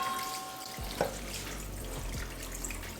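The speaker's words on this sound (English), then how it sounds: "flick open the tap to rinse, cool it." A kitchen tap is opened to rinse and cool drained pasta, and water runs in a steady, close rushing stream that begins abruptly and continues alone.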